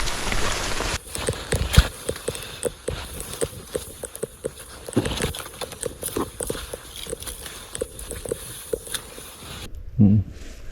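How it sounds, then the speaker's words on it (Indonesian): Rain patters steadily on a mountain trail on Mount Argopuro, a dense, irregular mix of drops and scattered thuds at moderate distance, with a few louder knocks near the end and no talk. "Masih hujan ya?"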